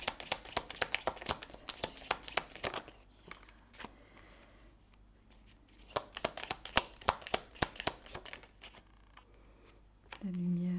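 Tarot cards are shuffled and drawn by hand in a steady run of soft, rapid flicks and riffles, fairly close and quiet, with a brief voice at the end.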